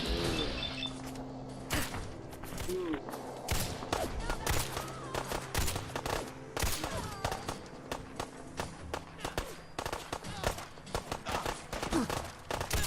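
Gunfire in the video game Fallout 4, with rapid, dense bursts of shots and impacts repeating throughout, layered with footsteps and game effects over a steady background.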